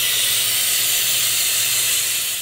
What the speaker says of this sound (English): So step one is brake clean